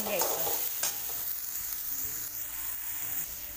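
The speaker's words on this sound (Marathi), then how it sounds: "आता हे चांगलं सगळं परतून घ्यायचं" Eggplant with red chili powder, turmeric and coriander stir-fried in a pan: a steady close sizzle with scraping and stirring strokes of the spatula.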